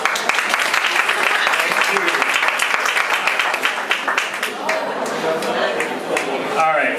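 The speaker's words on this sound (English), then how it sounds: "so let's have a big round of applause" Lively applause from an audience at a film festival panel, dense and close at first, then thinning into scattered claps with voices and cheers mixed in toward the end.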